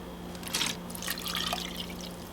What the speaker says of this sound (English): And then I'm gonna add in my 1 cup of lemon juice.